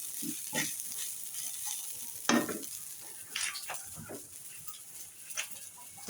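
Pancit canton stir-frying in a pan, a steady sizzle broken by repeated close scrapes and clanks of stirring.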